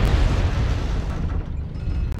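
A deep, rumbling airstrike explosion from MechWarrior Online rolls out loud and sustained, decaying over a couple of seconds with no talking over it.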